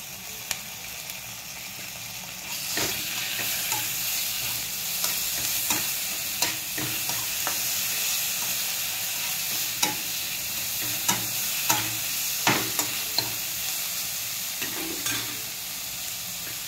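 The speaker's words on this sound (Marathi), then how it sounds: "आल्या लसणाची पेस्ट टाकूया." Ginger-garlic paste fries in a pan for masala rice, a steady sizzle running throughout with repeated sharp scrapes and taps of a spoon as it is stirred, close and fairly loud, no voices.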